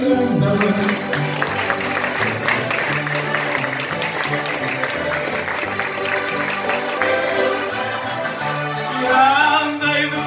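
Audience applause for a singer at a traditional desafio singing gathering in Vila Nova de Anha, Viana, with steady clapping blended with music, crowd noise and voices.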